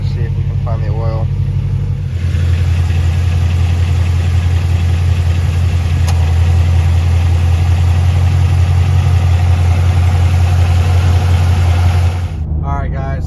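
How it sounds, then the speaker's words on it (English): A 2018 Shelby GT350 engine idles steadily, a close, even low rumble running for several seconds, with brief voices talking just before and after. "Now I got the car idling"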